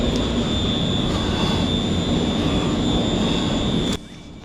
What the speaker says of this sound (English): So now I'm catching the Glasgow Central to Ayr service.